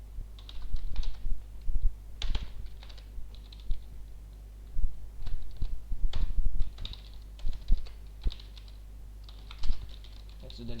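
Fingers tap out a comment on a computer keyboard, a quick irregular clatter of close keystrokes in bursts separated by short pauses, with a low steady hum underneath.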